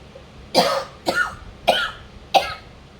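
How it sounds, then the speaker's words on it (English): One person coughs four times in a row, each a harsh, close, separate burst roughly half a second apart, over a quiet room. "And stop making me cough."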